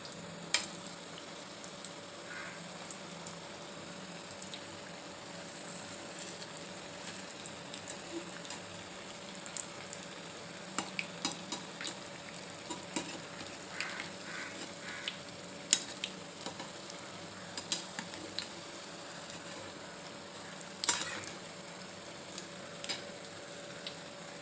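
Sweet potato bonda sizzles steadily in hot oil in a pan, a soft continuous frying hiss with faint scattered pops and occasional light clinks as the pieces are flipped.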